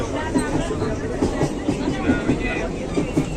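A crowded train to Tarakeswar rumbles past close by with a steady rhythmic clatter of wheels on track, loud and continuous, with voices murmuring underneath.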